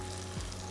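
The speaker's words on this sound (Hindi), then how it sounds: "आलू को हमें 3-4 मिनट तक भूनना है, और भूनते भूनते इसमें मैं डाल रहा हूँ साबुत कसूरी मेथी" Potatoes frying in a pan with whole kasuri methi, a faint continuous sizzle with one brief soft stir partway through.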